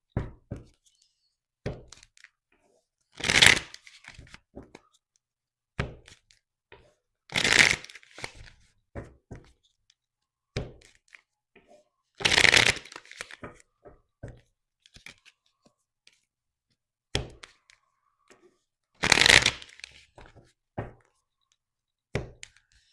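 Tarot cards shuffled by hand in a quiet room, with four loud riffling bursts spaced several seconds apart and soft taps, knocks and card handling between them.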